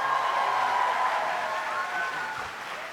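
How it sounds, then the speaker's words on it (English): Applause from an audience at a university cultural night show, a steady wash of clapping from a crowd, fairly loud and continuous, with faint voices mixed in. "Can you give them another round of applause"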